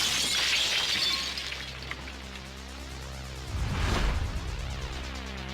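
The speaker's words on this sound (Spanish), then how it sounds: "Las imágenes de alta velocidad muestran qué ocurre cuando una onda expansiva golpea un muro de cristal." Glass wall windows of the Murrah building atrium in Oklahoma City shatter under an explosion blast wave, a dense crackling, tinkling burst that fades and then swells into a second loud crash. No one speaks.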